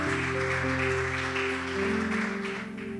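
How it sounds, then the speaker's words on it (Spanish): A church congregation applauds for the Lord, steady clapping that stays moderately loud throughout and eases slightly near the end, with sustained musical tones underneath. "Y si ese aplauso es para el Señor, déselo muy fuerte"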